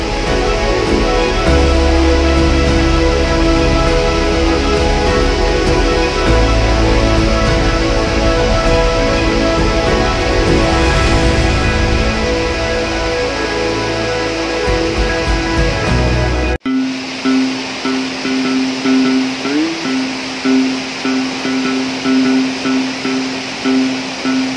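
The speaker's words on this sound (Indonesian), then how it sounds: "Di belakang saya adalah itu air terjunnya" Pancuran Rayo waterfall in Kerinci, about 50 metres high, gives a steady, loud broadband roar of falling water that fills the scene, with a brief abrupt shift partway through before the rushing continues alone.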